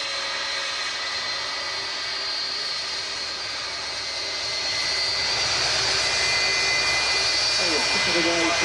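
Jet aircraft engines at Manchester Airport, a steady broad roar that swells louder toward the end as a plane nears, with people talking faintly underneath.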